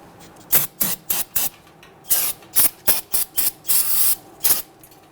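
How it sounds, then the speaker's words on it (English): Short hissing bursts of aerosol solvent cleaner sprayed on brake parts of a Ford Taurus, about a dozen quick sprays in an uneven rhythm with one longer blast near the end, close and fairly loud. "Spray it down with some solvent."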